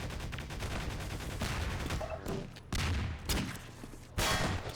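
Dense, continuous gunfire from the Half-Quake game, rapid shots layered into a loud fusillade with a few heavier blasts near the end, close and unbroken by speech.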